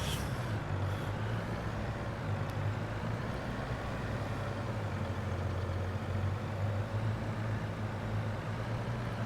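A heavy truck engine in a farming simulator game drones steadily under load, with a constant low rumble and rough mechanical texture that holds for the whole stretch, with no voices.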